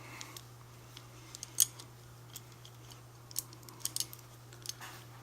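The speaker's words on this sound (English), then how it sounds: "And cut with some tubing." Scissors cutting tubing, a few quiet, sharp snips spaced irregularly over a steady low electrical hum in an indoor workspace.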